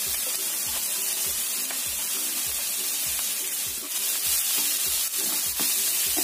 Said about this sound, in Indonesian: Setelah panas, kita masukkan bawang bombaynya. Kita tunggu sampai layu atau matang.